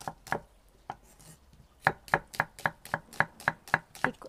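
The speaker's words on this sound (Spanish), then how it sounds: "Lo primero que vamos a hacer es cortar la cebolla" An onion being cut into thin strips on a board, a few scattered knife strikes and then a quick, even run of about ten crisp chops, close and clear with no voices.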